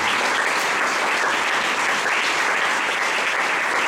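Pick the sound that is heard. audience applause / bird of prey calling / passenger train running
audience applause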